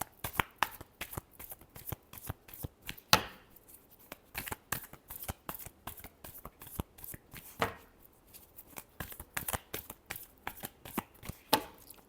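Tarot cards shuffled by hand, crisp rapid riffles and slaps in irregular bursts, close and alone with no talking.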